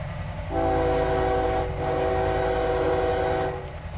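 An EMD GP-11 diesel locomotive (Paducah rebuild) pulling away in the railroad game Railroader, its horn sounding a long, loud blast that pauses briefly and resumes over a low, rumbling engine drone.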